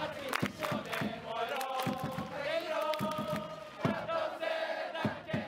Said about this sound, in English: player introductions include a roll call where each player has a specific cheer